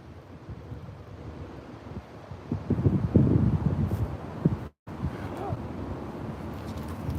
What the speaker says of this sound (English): Another crazy fucking headwind.